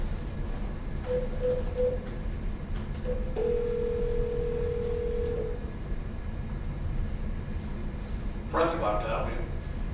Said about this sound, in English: I will contact Eric by phone